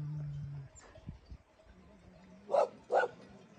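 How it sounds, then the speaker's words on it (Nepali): A Bhote (Tibetan mastiff) dog in a rural Nepali village gives two short, fairly distant barks near the end, over faint ambient noise and low background sounds. "उही भोटे कुकुर भुकिरहेछ"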